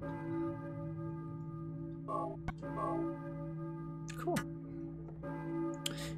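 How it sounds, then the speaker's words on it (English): Church bell tolling in the Silent Hill video game, a sustained ringing hum under a few faint clicks and thumps, steady and moderately quiet. "I guess we'll check out the bell."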